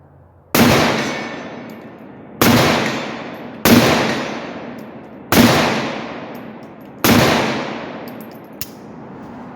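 Five single AK-47 rifle shots fired outdoors, each a loud sharp crack with a long decaying echo, spaced roughly two seconds apart, followed by a faint small click near the end.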